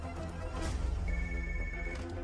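A telephone rings during a call to an office in a Hindi-dubbed South Indian film, a single steady electronic ring tone sitting fairly quietly under the background score.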